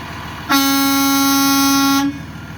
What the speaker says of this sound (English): if you get the horn, please make sure you just move your vehicle to a different spot